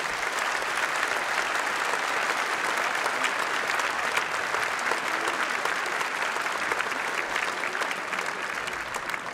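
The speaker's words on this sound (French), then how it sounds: "je vais vous demander, bien sûr, d'applaudir nos 12 candidats et candidates" Sustained, loud audience applause for twelve singing-contest finalists at the Tréteaux Chantants 2017 final, a dense, even roar of many hands clapping throughout.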